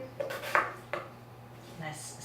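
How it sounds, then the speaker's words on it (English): A knife slicing and dicing very large potatoes on a board, a few distinct clacking chops with light scraping between them and a faint steady hum underneath. "Nice slicing and dicing there."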